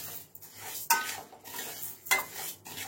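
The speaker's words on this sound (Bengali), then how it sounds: "হালকা করে আমি ভেজে নেব" Moong dal is lightly dry-roasted in a kadai, with a spatula scraping and stirring in a few distinct strokes over a faint, quiet background.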